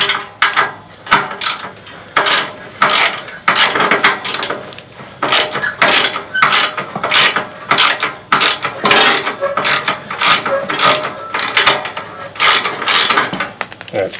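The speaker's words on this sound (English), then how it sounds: "these bolts are some standard size. But 13 fits on there" A 13 mm ratcheting wrench loosens bolts on a lawn mower outdoors, producing repeated loud bursts of quick ratchet clicks separated by short pauses, close up and continuing over many seconds.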